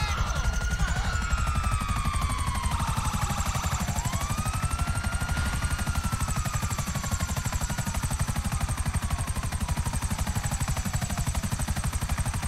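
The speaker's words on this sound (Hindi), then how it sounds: "कोई नहीं हम हेलीकॉप्टर लेके भाग जाएंगे, हमें क्या है" A helicopter flies in GTA 5, its rotor chopping in a fast, even pulse that runs throughout, with gunfire-like bursts and whooshing sweeps over it early on.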